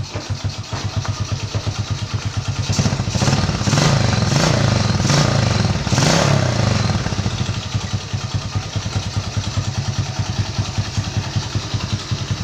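Suzuki Shogun 110 motorcycle engine with a broken double clutch and crankshaft, revved in first gear while held stationary, a close clattering idle that rises through several throttle blips before settling back to a rough idle.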